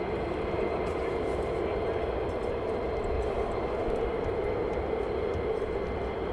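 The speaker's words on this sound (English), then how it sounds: "And II3 and Osprey just started up a few minutes ago" Osprey tiltrotor aircraft engines idling at RAF Lakenheath, a steady loud droning whine and rumble that holds without a break, heard from some distance.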